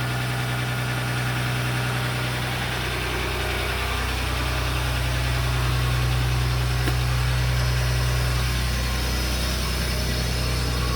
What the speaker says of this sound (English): the ECU programming added a high idle when it's cold